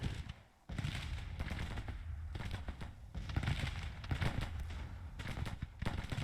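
Artillery fire in the Grand Tactician Civil War strategy game: a steady, rumbling barrage of distant cannon blasts and crackling gunfire rolls on after a brief lull, fairly faint.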